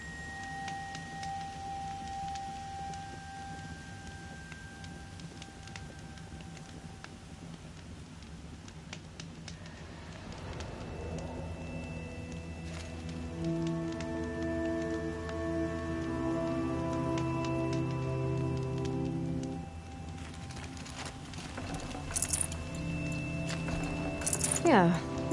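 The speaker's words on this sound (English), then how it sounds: "Rain's easing." Steady rain patters through a Horizon Zero Dawn game scene, a soft continuous hiss with scattered chirps, while a character talks over it and music swells toward the end.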